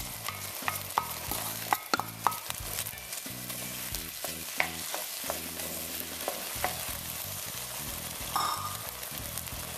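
Beef and broccoli fry in a pan as sauce goes in, with loud rhythmic stirring and scraping over a continuous sizzle, close and busy throughout.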